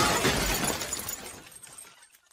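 Glass lamp shatters in a lamp shop, a loud crash at the start with tinkling fragments that scatter and fade over about two seconds into quiet.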